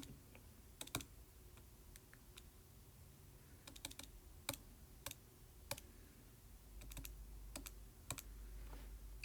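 Irregular clicks of typing on a computer keyboard, scattered keystrokes in short bursts over a faint background hum.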